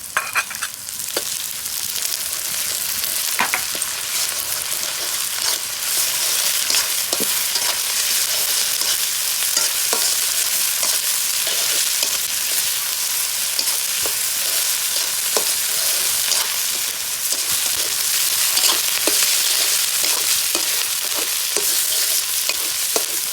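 Ginger and garlic paste fries in a pan for bhuna khichuri, a loud, continuous hiss of hot oil sizzling steadily throughout, with occasional faint clicks of stirring.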